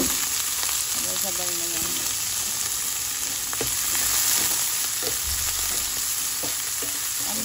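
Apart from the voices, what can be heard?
mushrooms being sautéed in a pan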